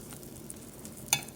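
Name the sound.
butter sizzling in a pan over medium heat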